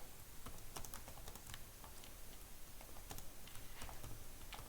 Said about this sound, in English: I'll just type something here.